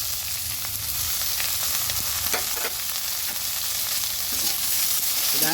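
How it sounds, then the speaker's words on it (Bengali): Potatoes seasoned with salt and turmeric sizzle steadily in a pan for pumpkin-flower chorchori while a spoon stirs them, a continuous close frying hiss with light scraping, no talk. "ভালো করে নেড়ে দিচ্ছি আলুটাকে একটু হালকা নেড়ে চেড়ে"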